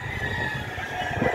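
Roosters crow in a rural morning setting, the drawn-out calls sounding fairly near over a low background hum, with no talk.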